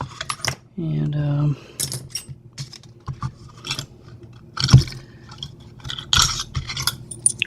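A set of keys handled at a workbench while picking an American A30 double-sided wafer lock, with close metallic jangles and clinks in separate bursts, a brief low hum, and someone speaking a word.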